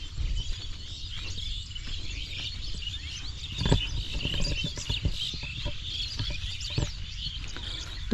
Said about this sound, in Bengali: পাখির কিচিরমিচির শব্দে চারিদিকে ভরে রয়েছে।